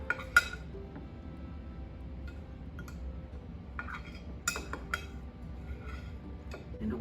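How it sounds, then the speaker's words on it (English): Almond flour being mixed with other ingredients in a bowl, with faint scraping and sharp clinks of a utensil against the bowl at irregular intervals, close and quiet. "Let me just mix them together."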